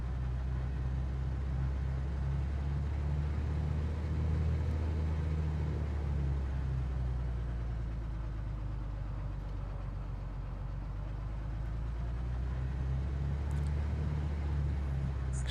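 Aircraft taxiing out toward the runway in Microsoft Flight Simulator 2020 over New York City, a steady low engine drone with a constant hum throughout, moderately loud and with no voices over it.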